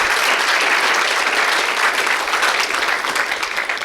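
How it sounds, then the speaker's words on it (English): An audience at wedding speeches breaks into loud, dense applause, steady and close throughout with no talk over it. "I think you all deserve a round of applause for that"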